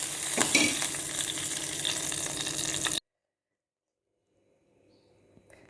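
Hot tempering with curry leaves poured over chayote kootu gives a sharp, loud burst of sizzling and stirring that stops abruptly, followed by near silence and a few faint clinks.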